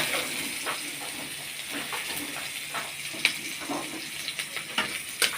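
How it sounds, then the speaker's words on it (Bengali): Chopped onion sizzles in raw oil along with chili, cumin and coriander powders and salt, a steady soft hiss with occasional stirring clicks, close by and fairly quiet with no talk. "তেলের মধ্যে দিয়ে দিচ্ছি পেঁয়াজ কুচি"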